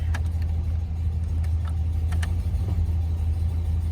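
A GMC 2500 truck's 6.0 engine idles with a steady low rumble and a rough, puffing ticking from an exhaust leak at broken manifold bolts, continuous and close with no talking.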